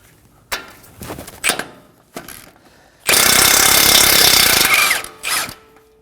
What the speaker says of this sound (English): using a 19mm socket, we're going to go ahead and remove the nut.